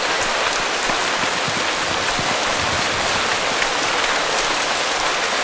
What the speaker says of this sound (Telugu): ఈ వర్షం ఆగే వరకు వీడు రాడు.